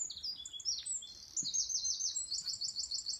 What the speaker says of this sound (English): Oh, the birds. Beautiful birds.